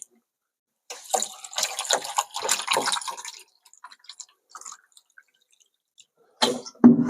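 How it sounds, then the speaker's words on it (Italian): Water poured into a makeshift container built from scrap materials, with irregular splashing and gurgling bursts, then a pause and a short final splash near the end, close and fairly clear. "Adesso aggiungiamo altra acqua."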